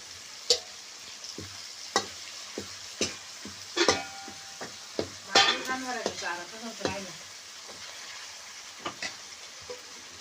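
Onion, coriander and masala with curry leaves frying in an iron kadai, a steady oily sizzle broken by repeated sharp scrapes and clatters of a spoon stirring, close and fairly loud with no talk.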